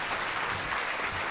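Audience applause fills the space after a Polish cabaret-style orchestra performance, a steady wash of clapping from a crowd heard alone for a moment.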